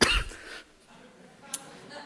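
A single sharp cough at close range from a man with a lingering cough during a church sermon, followed by quiet and a faint small click.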